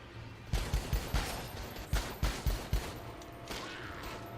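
Gunfire in the zombie video game Dead Rising 4: a string of about nine sharp, evenly spaced shots in two bursts, loud and close, with a faint trailing rumble.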